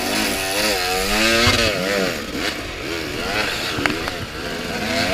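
A dirt bike engine labors and revs up a muddy hill during a rainy Tennessee Knockout race, its buzzing pitch rising and dropping in surges, loud and close throughout, with a rider's voice faint under it.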